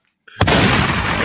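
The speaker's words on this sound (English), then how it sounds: "But the gunshots, yo." A single sharp gunshot sound effect bursts in after a moment of quiet and rings out loudly with a sustained blast tail.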